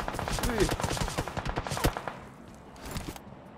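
Rapid bursts of gunfire in PUBG Mobile on the Nusa map, a dense run of sharp repeated shots up close that thins out and fades after a couple of seconds, with scattered later reports.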